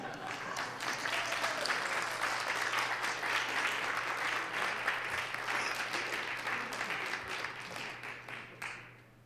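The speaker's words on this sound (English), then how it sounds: "let's give a round of applause to our friends from the House" Applause from a full Senate chamber greets guests from the House seated up in the gallery, steady dense clapping lasting several seconds before tapering off, with a low hum underneath.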